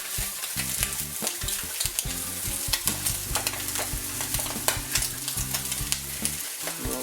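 An egg fries in an egg ring on a griddle for a breakfast muffin, a steady close sizzle with frequent crackles and pops and scraping utensil sounds mixed in, heard alone.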